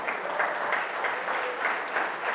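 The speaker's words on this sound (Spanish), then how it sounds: "Dense un aplauso por estar aquí el día de hoy." A church congregation claps together in steady, even applause that fills the room, with no voices over it.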